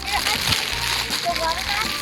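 A toy robotic fish is dropped into a small pool of water, making a brief splash and continuous sloshing. Children and an adult talk over it the whole time.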